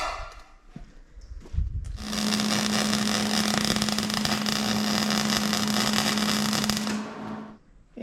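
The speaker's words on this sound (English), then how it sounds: "And we're going to get that welded in along across here." Welding a front steel bar onto a shop frame for a 2022 Ford F-350 King Ranch: a steady loud crackling hiss with a low hum holds for about five seconds, then cuts off, preceded by some clanks.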